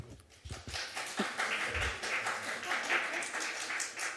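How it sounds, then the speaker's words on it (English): Audience clapping at a Costa Mesa city council meeting, a sustained crackling spread of many hands that builds after a few sparse opening claps and carries on evenly, with faint room murmur beneath. "I guess the clapping continues"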